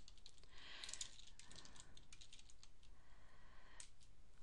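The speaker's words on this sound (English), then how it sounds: "You can just type into here" Someone types on a computer keyboard into a search box, a quiet, close run of quick key clicks with a brief pause and a few final taps.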